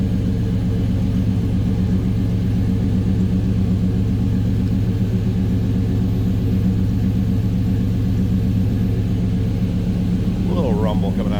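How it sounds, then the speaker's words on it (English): A 1972 Chevrolet Chevelle convertible with a 383 engine idles with a deep, steady rumble, loud and close, holding an even throbbing tone throughout. "A little rumble coming out of that 383."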